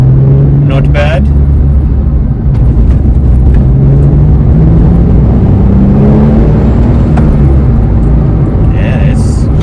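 A Porsche 997 Carrera C2 downshifts into second while driving in traffic: a loud, continuous cabin engine drone and road rumble, with the engine pitch shifting as the gear changes.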